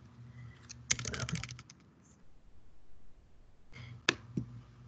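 Two quick bursts of clicking keystrokes on a computer keyboard, close and fairly quiet, separated by a pause of near silence.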